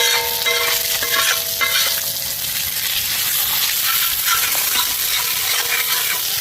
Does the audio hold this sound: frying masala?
yes